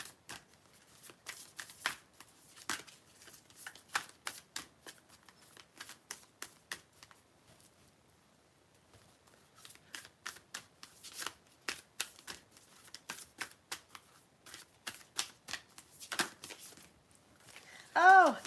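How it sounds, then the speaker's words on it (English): Tarot cards are shuffled by hand in quick riffling bursts, crisp and close, in two main runs separated by a quiet pause, with a voice briefly heard at the very end. "I am just going to give this another quick shuffle"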